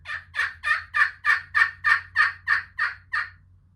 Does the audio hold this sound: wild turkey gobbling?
yes